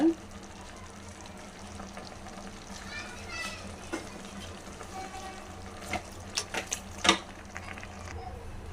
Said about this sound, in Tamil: உங்களுக்கு தேவையான அளவுக்கு தண்ணி ஊற்றிக்கோங்க